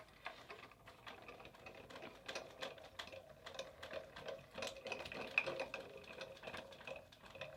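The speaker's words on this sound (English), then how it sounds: "So now that we have that sandwiched correctly, we're gonna run it through the machine." An Artisan Explorer die-cutting machine draws a metal shim sandwich through its rollers, giving a steady run of dense, quiet clicking and grinding ticks with no voices.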